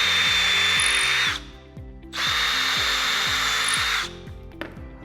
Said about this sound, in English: you're just gonna take your drill bit, and you're gonna drill.